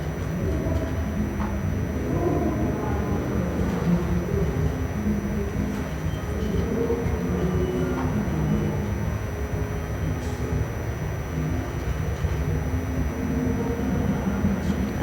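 A state burial procession of 64 military vehicles from infantry regiments escorting a casket on a gun carriage, a steady continuous low rumble of engines rolling past at moderate distance, with faint scattered background noises.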